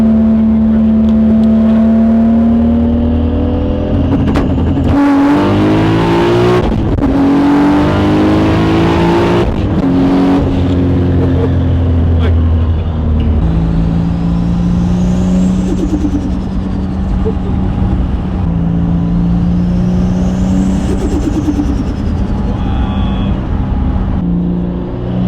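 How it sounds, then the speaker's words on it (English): A 900 hp Toyota Supra tuned with anti-lag does a rolling street launch, its engine roaring loudly and climbing through revs with turbo whooshes and spools, then settling into a steady drone as it pulls away. "Those turbo sounds never get old."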